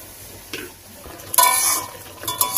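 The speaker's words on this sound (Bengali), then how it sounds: "এই যে এইভাবে কিছুক্ষণ আমি ভালো করে নেড়ে নেড়ে কষিয়ে নেব।" Spice paste for katla fish curry is stirred and fried in a pan in a village kitchen: soft sizzling under a few scraping stirs, the loudest a bright burst midway, with no talking.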